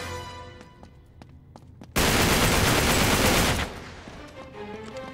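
Sharp gunshots in Uncharted 3: Drake's Deception Remastered crack one by one, then a sudden loud burst of rapid automatic fire roars for a couple of seconds before easing off.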